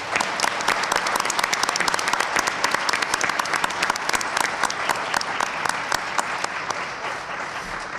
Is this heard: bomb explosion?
no